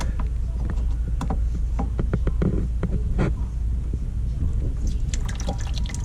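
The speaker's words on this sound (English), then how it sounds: "let me cut it and see how much water goes spraying everywhere" Water sprays and splashes in a steady rush from a cut pipe during a bathroom remodel, with scattered drips and clicks over a constant low hum.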